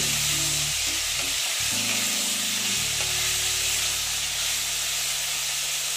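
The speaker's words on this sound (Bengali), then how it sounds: "ঝিঙেগুলো দিয়ে আবার আস্তে আস্তে সুন্দর করে ভেজে নেব।" Ridge gourd pieces fry gently in a pan with a steady, broad sizzling hiss that holds throughout, with low rumbling tones underneath and no voices.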